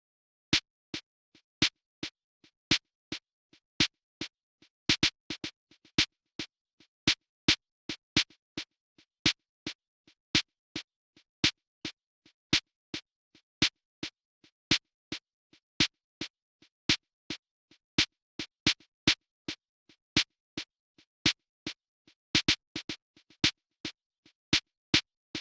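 A programmed snare drum pattern with probability-triggered extra notes, played back from Bitwig driving Maschine, repeating as steady sharp hits with occasional added syncopated strikes and brief flams, alone without talk.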